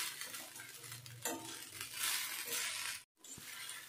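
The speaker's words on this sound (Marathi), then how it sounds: "आता मीडियम गॅसवर 5 मिनिटं मी परतून घेते छान शाबू, म्हणजे खिचडी छान शिजेल।" Sago pearls are stirred and sautéed in a pan over medium heat for khichdi, giving a soft steady sizzle with scraping and occasional clinks of the spoon, close and quiet, broken by a brief gap.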